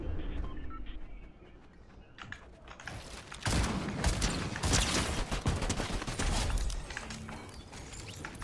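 Gunfire in the Fortnite video game, with rapid bursts of shots and clattering keyboard and mouse clicks layered over muffled game ambience, growing loud and dense in the second half.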